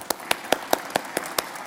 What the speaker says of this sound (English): Nice round of applause.